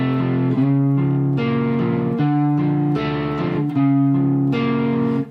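An electric guitar plays the verse riff of a song in standard tuning, a steady repeating pattern of distorted, effects-laden notes, loud and close with no talking.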